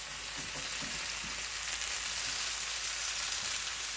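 Squash sizzles and fries steadily in a pan with bacon, a constant close hiss of frying with no talking.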